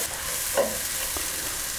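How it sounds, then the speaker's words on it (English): Mild curry paste sizzles softly in a pan while being stirred, a brief, quiet frying hiss with a small scrape of the utensil partway through. "fry it off for about a minute."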